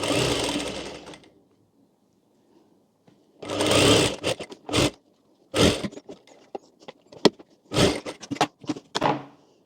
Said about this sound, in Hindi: यहाँ नीचे वाले पार्ट में भी इस तरह से सिलाई लगा लेंगे